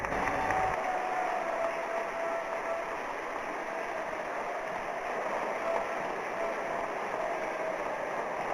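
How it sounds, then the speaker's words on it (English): Large audience at the Vibrant Gujarat Summit gives a sustained round of applause, a steady dense wash of clapping heard from a distance at moderate level. "invite Honorable Prime Minister of India, Shri Narendra Modi, with a thunderous round of applause for his inaugural address"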